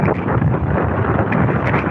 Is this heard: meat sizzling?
no